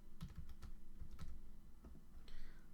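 Quick, close clicks of keys on a computer keyboard as a zip code is entered for a fee calculation, coming in short uneven bursts over a low room hum.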